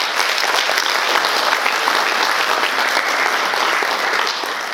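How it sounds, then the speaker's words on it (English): Audience applause fills a room at the end of a talk on building a minimum viable product, a dense, steady wash of many hands clapping close by with no gaps, and no talk over it. "I'm assuming most people are clapping hands"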